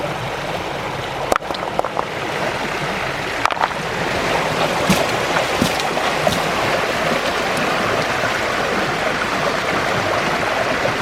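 River water rushes steadily through a gold-mining sluice, a continuous loud flowing wash with a few sharp knocks and splashes.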